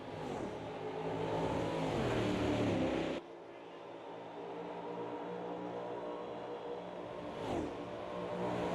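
Race cars circulate at Monza in an endurance race, engines droning loudly with one car revving up and then dropping away at about three seconds, followed by a steadier, more distant engine hum and another passing swell.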